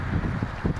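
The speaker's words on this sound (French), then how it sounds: "il y a beaucoup de vent" Strong wind blows outdoors, a steady rushing roar that buffets the microphone for a brief moment with no other sounds.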